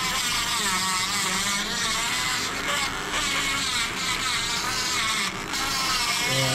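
Dremel rotary tool grinding rust and paint off sickle mower parts, a steady high buzzing whine running continuously and close at constant loudness, with no pauses.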